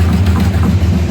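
A 1973 Dodge Charger idles steadily nearby on a wet fall day, its engine giving a continuous, loud, low rumble with a gentle pulsing throb and no voices over it.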